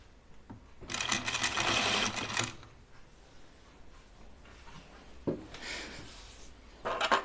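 Sewing machine driven by a foot pedal stitches in two short bursts, a rapid mechanical whir lasting about a second and a half each, with quiet clicks and handling between.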